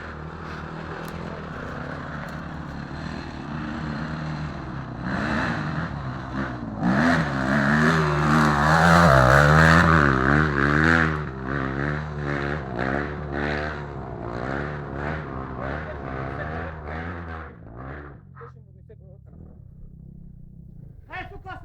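A motor engine revs and strains steadily, pitch rising and falling under people talking, then dropping off near the end.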